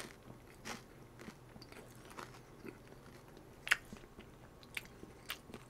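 Crisp, close-up biting and crunching of fried chicken gangjeong with a sticky-rice-based batter, irregular crackly bites and chewing with a few sharp snaps, heard alone without talk.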